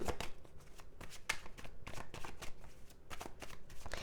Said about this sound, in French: Je vais juste tirer quelques cartes du tarot pour clôturer ce tirage.